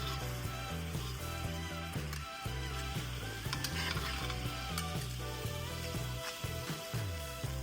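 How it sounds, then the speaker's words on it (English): Marinated fish sears in a pan with a steady, dense sizzle and frying crackle, joined by a background tonal hum and some stirring or shifting in the pan, running continuously for the whole stretch without any talk. "Now sear your marinated fish for a few minutes on each side until it's golden and tender."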